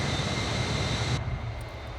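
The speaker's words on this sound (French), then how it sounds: "Et on va attendre que notre avion soit stabilisé." Avro Vulcan jet engines drone in a flight simulator video game, a loud steady roar that drops sharply in its upper range partway through and continues more subdued, with no talk.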